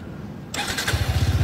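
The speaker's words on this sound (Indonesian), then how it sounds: "Nah, dengerin suara mesinnya nih brother." A Suzuki Gixxer SF 250 single-cylinder motorcycle cranks and fires up, settling into a close, loud, pulsing idle with a rapid, even thump.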